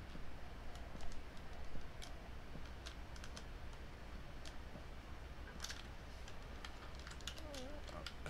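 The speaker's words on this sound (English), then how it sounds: "Shift clicking all the way down the line." Mouse clicks and keyboard taps while shift-clicking items in Minecraft, a steady stream of light, close clicks scattered over quiet room noise.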